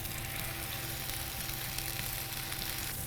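Smash burger patties pressed thin frying on a hot griddle, a steady close sizzle and crackle running throughout with no talking.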